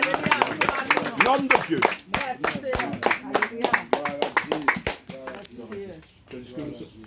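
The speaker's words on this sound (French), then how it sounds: "Est-ce qu'on peut applaudir, s'il vous plaît?" A Sunday church congregation claps in steady, sharp strokes throughout, with someone speaking loudly over the clapping the whole time.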